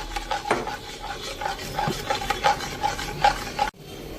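Spoon stirring onion water with half a spoonful of tomato paste mixed in for a minced-meat kofta dish, a steady scraping and rubbing against the pot with small clinks throughout, close and alone.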